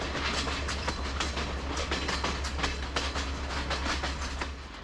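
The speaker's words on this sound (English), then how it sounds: "where we pass this classic loco haul train on the way to Colombo" A locomotive-hauled passenger train rolls past close by on a Sri Lankan jungle railway, wheels clattering over rail joints in a steady clickety-clack beneath a constant low engine rumble.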